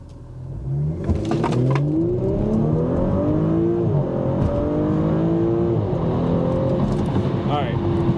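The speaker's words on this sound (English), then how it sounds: "I know I'm gonna spin the tires, but I just wanna see what it will do" An Audi B9 S5 accelerating hard from a launch, its engine note rising through several climbing sweeps between gear changes, loud and close from inside the car.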